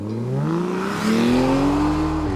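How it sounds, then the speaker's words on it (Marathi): A motorbike engine revs up with rising pitch as it approaches quickly, loud and close, the whine climbing steadily. "समोरून एक बाईक खूप फास्ट वेगाने त्याच्याच दिशेने येते"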